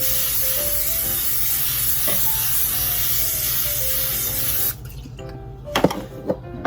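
A continuous hissing spray of cooking oil onto a pan for several seconds, then it cuts off, followed by a few light clanks and taps.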